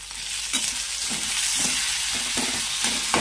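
Ginger and garlic paste with chopped onion and tomato fry in a pan, a steady close sizzle broken by several soft scrapes and stirs, with no talking.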